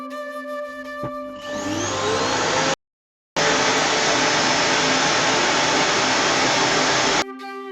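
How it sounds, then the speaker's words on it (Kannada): A household vacuum cleaner switched on indoors for cleaning a home, winding up quickly into a loud, steady whirring roar that runs for several seconds, cuts out briefly, resumes, then stops abruptly. "ಇದು ವ್ಯಾಕ್ಯೂಮ್ ಕ್ಲೀನರ್."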